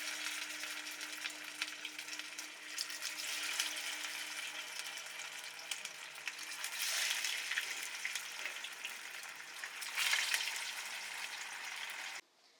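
Semolina momos stuffed with potato and paneer sizzle steadily in hot oil, a continuous crackling fry holding at an even level and swelling briefly near the middle and end before cutting off.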